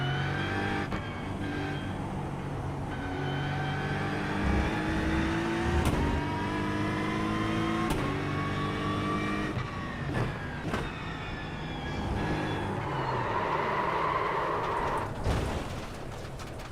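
A GT3 race car engine in iRacing drones and revs through the gears, with sharp breaks at each gear change and the pitch climbing and falling between shifts, steady and close throughout.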